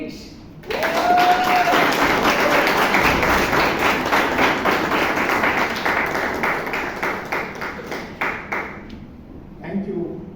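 A Toastmasters meeting audience in Bangalore bursts into loud, sustained applause that gradually thins into scattered claps before a voice begins.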